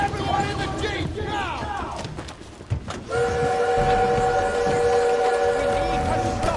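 Train in the Call of Duty campaign mission S.O.E., a loud sustained whistle with steady tones that blares over rumbling rail noise and game action.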